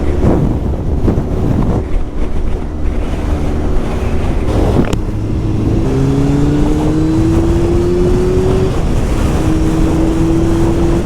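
A 1999 Honda CBR 900 Fireblade motorcycle cruising with heavy wind roar buffeting the helmet microphone, engine drone rising steadily through the gears underneath, loud and constant.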